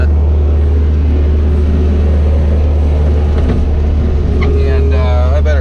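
Bobcat skid steer engine plowing snow, a loud steady low drone running throughout, heard close from the operator's seat with some clattering and shifting higher tones near the end.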